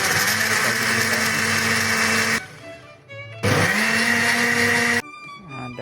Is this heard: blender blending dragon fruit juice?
yes